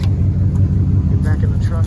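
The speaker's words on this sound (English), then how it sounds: "But truck runs like normal." A 1991 Ford F150 farm truck engine idles with a close, steady low rumble while a person talks over it.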